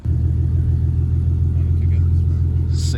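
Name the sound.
Nissan G35 engine running with stage 3 cams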